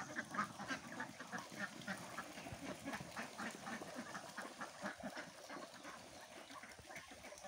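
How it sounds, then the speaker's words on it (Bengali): A flock of ducks being let out of their shelter, quacking in a busy, overlapping chorus that continues steadily throughout at moderate distance, with no talk. "হাঁসগুলো কিন্তু সব বেরোয় যাইতেছে।"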